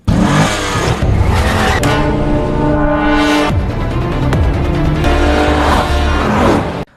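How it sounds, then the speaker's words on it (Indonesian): A car speeds off in a gangster film, engine revving loudly and continuously for several seconds with shifting pitch and brief screeching bursts, close and dominant with no talk. "Kang Kyung langsung tancap gas dengan mobilnya"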